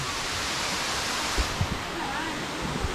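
Waterfall at Dagit, a steady broad rush of falling water filling the scene close by, with a few brief knocks and faint voices underneath.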